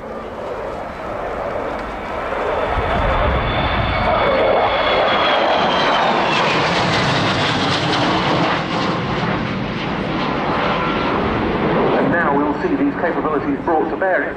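AV-8B Harrier and F-35B jets breaking in at an airshow, a loud, sustained roar that builds and sweeps past with a falling whine, continuing under a commentator talking over the public address.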